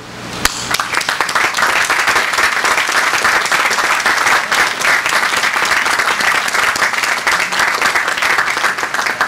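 A large commencement audience applauds the class of 1963 with dense, loud, sustained clapping that runs unbroken throughout, filling the hall without speech on top.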